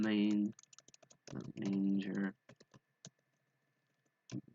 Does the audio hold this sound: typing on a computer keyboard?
yes